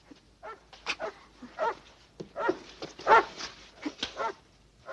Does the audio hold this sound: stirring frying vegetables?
no